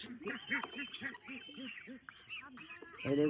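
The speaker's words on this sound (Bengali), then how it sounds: "রাজহাঁস একটা একটু করে মাপ দেয়" A goose being weighed on a farm gives a rapid series of nasal honks, a dozen or so close, evenly spaced calls, ending in a louder burst.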